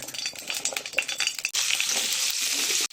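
Bitter gourd frying in hot oil: scraping and stirring at first, then a loud, steady sizzle that fills the rest of the moment.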